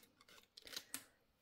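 Scissors snipping through watercolor paper while cutting out paper labels, a few crisp close cuts with short gaps, quiet and alone with no talking.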